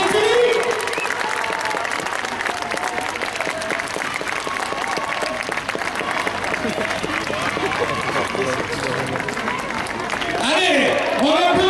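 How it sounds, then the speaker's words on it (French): A crowd claps steadily and loudly for nearly twelve seconds at the inauguration of an ice rink in Rochefort, dense and close, with voices and cheers rising near the end. "Allez, on applaudit très fort!"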